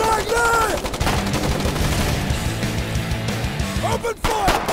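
Battlefield gunfire in the Foxhole war game, dense overlapping rifle and machine-gun shots, loud and continuous, mixed with droning engine noise and voices shouting in the background.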